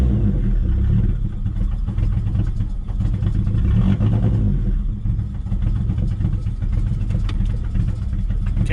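An Eclipse car engine running on a newly installed ECU, with the idle air control valve disconnected and the mixture running rich, gives a loud, steady, rumbling idle that carries on without a break.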